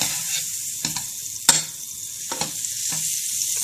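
A small knob of lactose-free vegan butter melts in a frying pan with a steady close sizzle and a few sharp ticks and scrapes in the pan.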